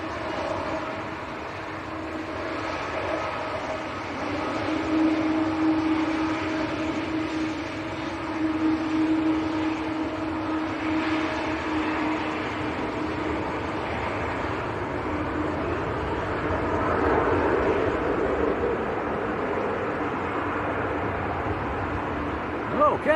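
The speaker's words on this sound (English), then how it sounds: "Oh, rejected takeoff, I think." A jet airliner rolls and roars through a rejected takeoff at Manchester Airport in gusty crosswinds, a broad, steady engine rumble heard from a distance throughout, with a voice speaking over it.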